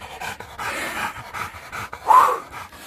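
A hunting dog from a hog hunt pants rapidly and loudly up close, with a brief whimpering yip partway through and rustling movement around it.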